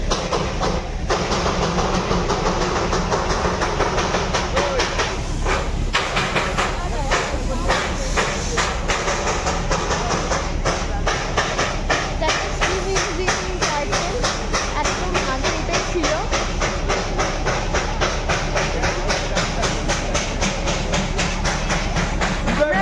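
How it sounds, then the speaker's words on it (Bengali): A steam-engine toy train pulls away at Batasia Loop in Darjeeling, its loud rhythmic chuffing bursts and steam hiss repeating steadily over a rumbling engine, close by. "এটা স্টিম ইঞ্জিন টয় ট্রেন"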